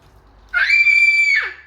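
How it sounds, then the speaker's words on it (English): A child lets out a single sharp, high-pitched scream lasting under a second, loud and close in a home kitchen while baking shortbread. "Oh, don't scream."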